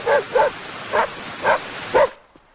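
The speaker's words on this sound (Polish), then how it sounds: "To twój piesek? Masz psa?" A dog barks five times in a fairly even rhythm, close and loud, then the barking stops and it goes quiet.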